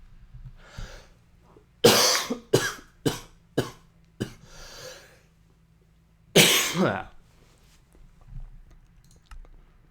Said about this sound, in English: here comes the cough again